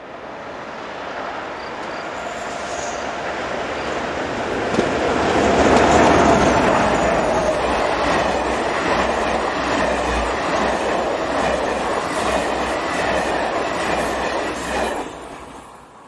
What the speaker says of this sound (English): the 1708 Bordeaux to Nantes rounds the corner with another pair of BB 67-400